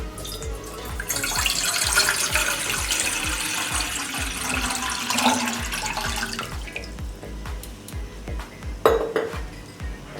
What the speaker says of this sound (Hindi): एक सॉस पैन ले लिया है, इसमें 4 कप पानी डाल देंगे।